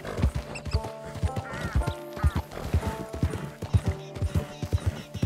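Steady, rhythmic clip-clop of a tired horse's hooves at a walking pace in Red Dead Online, close and fairly loud, with an occasional faint snort.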